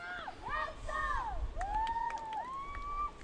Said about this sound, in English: the cheerleaders are getting even more louder on the left hand side of the comm tower